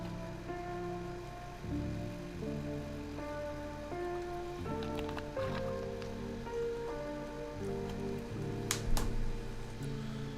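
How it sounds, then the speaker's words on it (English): Rain falls in a video game as a gentle, steady patter that stays constant beneath a melodic backing of sustained musical tones, with no voices. "And it's raining again."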